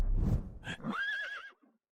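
A horse neighs close by, a low snort and rumble rising into a bright, wavering whinny that fades out after about a second and a half, with no talk over it.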